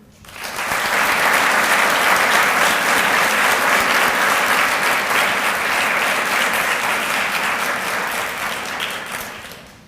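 Steady, dense applause from a lecture audience greeting a judge of the International Court of Justice at a law-school lecture hall, rising quickly and holding for nearly ten seconds before tapering off, with no talk over it.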